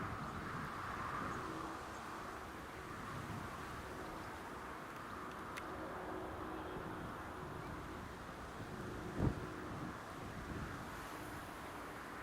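Wind buffets the microphone at Newcastle International Airport on an evening in August, a steady, full rumbling roar that carries on throughout, with one brief knock near the end.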